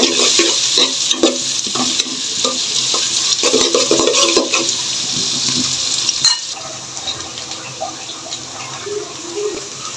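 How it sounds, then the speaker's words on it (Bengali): A blended spice masala fries in a pan, loud and close. Frequent scraping stirs run over a wet sizzle that eases off in the second half, with no voices. "এখন একটু ভেজে নিব।"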